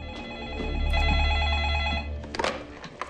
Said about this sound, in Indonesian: Tiba-tiba ada telepon lagi.